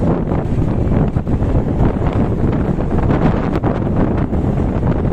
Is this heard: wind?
yes